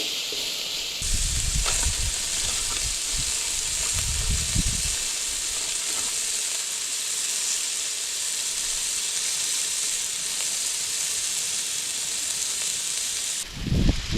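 Diced venison tenderloin fries in a pan at a camp, giving a loud, steady sizzle that holds for the whole stretch, with a few low thumps and bumps of handling near the start and the end.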